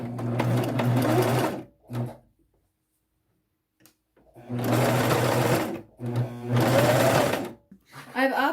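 A sewing machine stitches a jacket sewn from thrifted fabric to a vintage pattern, running in several close bursts of even whirring separated by pauses, with one brief final burst.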